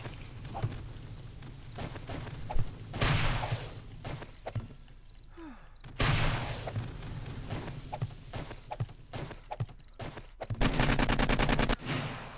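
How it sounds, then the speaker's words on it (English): Assault rifle gunfire in the video game 7 Days to Die: scattered sharp shots and rapid bursts over about twelve seconds, some loud and near, others fainter, with a long dense volley near the end. "Who is shooting me with an assault rifle?"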